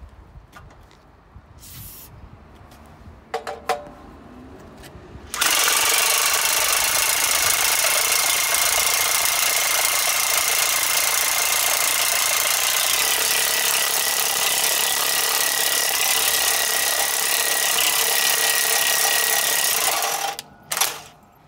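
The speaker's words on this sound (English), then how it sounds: "I've switched over to a much heavier duty impact wrench" A heavy-duty impact wrench drives a VersaDrive ImpactaStep step cutter through 10 mm mild steel, starting after a few light knocks and hammering continuously and loudly for about fifteen seconds before stopping abruptly.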